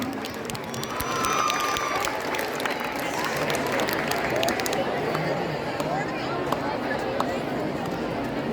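An audience at a school Christmas celebration gives a sustained round of applause for students after class positions are announced, with steady clapping and crowd noise under a speaking voice.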